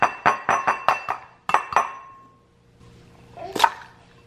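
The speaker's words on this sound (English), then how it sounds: "you can crack 2 eggs" Eggs being cracked in a home kitchen for lunch, with a quick series of sharp taps and clinks on a hard edge, a short pause, two more knocks, then a brighter clatter after a brief silence.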